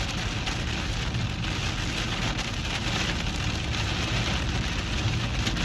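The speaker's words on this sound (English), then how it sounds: "If I can, because I'm having to shout over the rain." Heavy rain falls outside in a steady, dense hiss and patter on surfaces, loud and continuous, with no talk.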